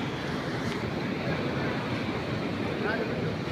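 Fast-flowing river water at the confluence of three rivers near Majalgaon dam, a loud, steady broadband rush with a continuous roar that holds evenly throughout.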